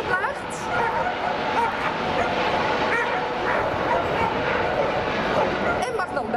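A dog barks and yips excitedly over and over, close by, mixed with whimpers and busy background noise, as it is teased during a bite-training demonstration at a harbor festival.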